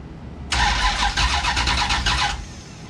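Starter cranking on a big block crop duster engine during its first start-up attempt, a steady loud mechanical whir with rapid rhythmic pulses lasting about two seconds before stopping, close by over a low background rumble.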